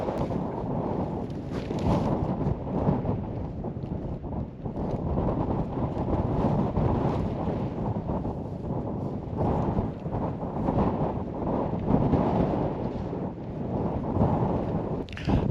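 Strong gusting wind of 40mph+ buffets a tent at a wild camp on the Helm in Wales, a continuous loud low roar with rushing surges and flapping throughout, no talking.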